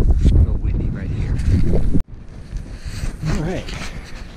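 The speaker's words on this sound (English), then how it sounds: "A little windy right here." Gusty wind on a mountain ridge buffets the microphone in rough low bursts while someone talks over it.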